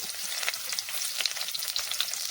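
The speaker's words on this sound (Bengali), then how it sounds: "ধোকার জন্য আলু ভেজে নেব সামান্য লবণ দিয়ে দিচ্ছি" Potatoes frying in hot oil with a pinch of salt for egg dhoka curry give a steady, close crackling sizzle with dense bright popping that runs unbroken throughout, with no voices.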